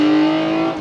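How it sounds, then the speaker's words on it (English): A Toyota Camry TRD with a cold air intake and a mid-resonator delete exhaust accelerates hard, a loud, raspy engine drone climbing steadily for under a second before easing slightly, with no voices. "we did do a resonator delete, mid-resonator, just to kind of give the exhaust a little bit more of a bark"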